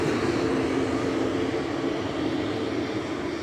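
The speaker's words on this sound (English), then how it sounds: "I'll let this Swiss Embraer go and take a punt." A Swiss Embraer airliner at Zurich airport, a loud steady engine roar with a broad rushing rumble, close and continuous, no voices.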